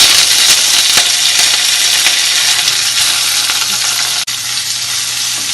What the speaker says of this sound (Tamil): நல்லெண்ணெய் போட்டு வடகம் போட்டு இப்போ வடகம் பொரியுது